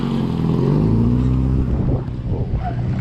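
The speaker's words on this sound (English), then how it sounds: "Oh, get your exhaust looked at, buddy." Car with a loud, faulty exhaust driving past on a street, a deep rumbling drone that swells close by and then fades away.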